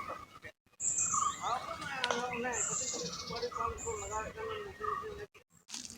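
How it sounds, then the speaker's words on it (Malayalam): Birds chirp among rocks and a bamboo thicket at Mayiladum Para, Puduruthy, several whistled calls and tweets repeating through the clip, moderately loud, with a voice talking steadily underneath. "ഇവിടെ നല്ല പക്ഷികളുടെ ശബ്ദം കേൾക്കാണ്ട്."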